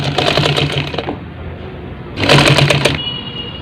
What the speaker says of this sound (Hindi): अभी हम इसको आखिर तक पहुंचाएंगे सिलाई को